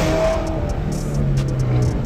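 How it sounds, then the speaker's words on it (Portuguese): A Corvette engine with an aftermarket exhaust revs up close by, its deep rumble swelling and holding steady for about two seconds. "Olha o barulho desse carro"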